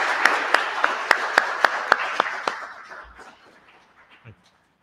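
Audience applause at a museum talk, a burst of sharp individual claps near the microphone that thins out and fades away within a few seconds.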